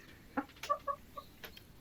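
A pet chicken clucks nearby in a quiet room, a few short soft clucks spaced irregularly over about two seconds.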